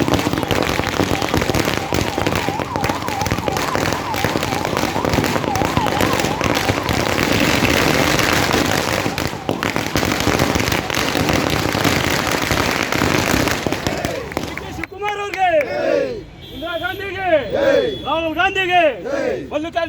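Congress party workers burst firecrackers in a street celebration of DK Shivakumar's swearing-in outside the mini Vidhana Soudha in Yelahanka. A dense, continuous crackle of rapid bangs lasts about fifteen seconds, then gives way to a crowd shouting and chanting.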